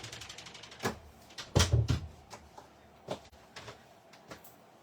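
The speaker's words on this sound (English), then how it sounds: "I'm just shutting the door." A door is shut in a home craft room, giving a few knocks and a thud of handling with scattered light clicks, fairly close and without talk.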